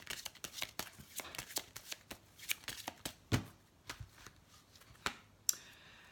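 Deck of oracle cards shuffled by hand: a long run of crisp, close riffling slaps and flicks in an uneven rhythm, with one sharper snap near the end, quiet room behind.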